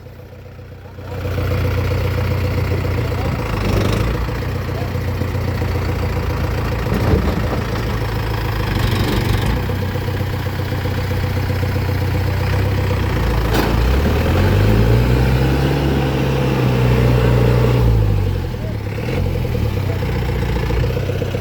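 Truck engine labouring with a wheel sunk in a river while being towed out, a loud steady drone with a long rising and falling rev in the middle.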